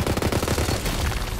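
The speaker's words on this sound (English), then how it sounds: "Sniper rifle." Rapid bursts of gunfire fill the scene, close and loud, from a sniper rifle in the fantasy shooter video game Tiny Tina's Wonderlands, with dense repeated shots throughout.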